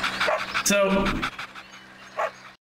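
A dog pants and gives a short bark in a mini golf video game, brief breathy bursts sounding close, with a person talking over it.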